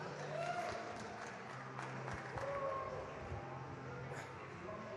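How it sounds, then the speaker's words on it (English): An audience applauds at a gaming tournament prize giving, a moderate wash of clapping with crowd murmur and talk over it, somewhat distant. "Give them a round of applause."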